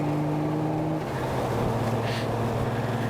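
A Honda Goldwing GL motorcycle engine pulling under throttle, a steady close low-pitched drone whose tone shifts as revs change, continuous with no speech.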